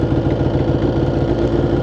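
A vehicle engine idles steadily and loudly up close, a low, even rumble with no voices over it, in Bakuriani, Georgia.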